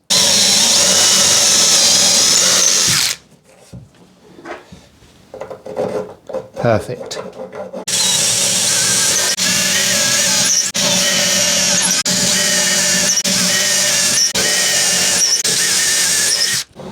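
A power drill bores holes with a 6.5 mm bit into a router table fence in a workshop, loud continuous whirring in two long runs separated by a quiet gap with handling noises and a brief spoken word.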